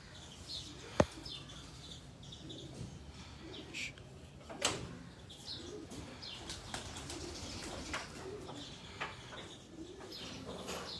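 Pigeons of a prized home breed coo softly in a loft, with bursts of flapping wings, a sharp tap and scattered chirps against a low background murmur.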